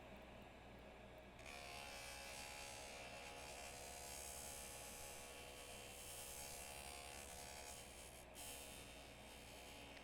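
A JOOLTOOL grinding machine polishes a metal texturing hammer, giving a steady, loud whine and hum that runs nonstop, with a brief shift in pitch near the start and again late on.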